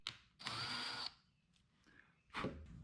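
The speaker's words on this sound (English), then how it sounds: "I follow that up with a 1/2 inch drill bit and I just go down a little bit" A power drill fitted with a 1/2 inch bit bores into wood to seat a threaded insert, two loud whirring bursts close by with a quieter pause and faint clicks between them.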